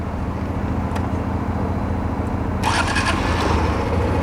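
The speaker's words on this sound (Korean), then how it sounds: "신형도 시동을 걸었어요" A Honda Super Cub motorcycle engine starts partway through, a sudden rise in close mechanical noise over a steady low idle hum that was already running.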